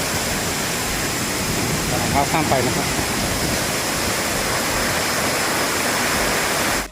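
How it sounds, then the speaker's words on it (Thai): Strongly rushing stream water at Montathan Waterfall in Doi Suthep-Pui National Park, Chiang Mai, roars steadily and loudly throughout, with someone speaking briefly over it. "น้ำไหลแรงอ่ะ"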